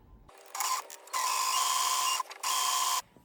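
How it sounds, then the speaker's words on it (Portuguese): Sewing machine runs a straight seam around baby-nest fabric in three close, steady bursts of fast stitching separated by short pauses, with no talking. "E eu vou fazer uma costura reta em toda a volta."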